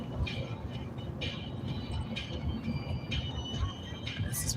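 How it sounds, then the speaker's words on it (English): A train rolls past near a sugar beet factory with a low rumbling drone, faint metallic squeals and clanks recurring over the steady rumble, heard at moderate distance. "I told you we hear the trains all the time."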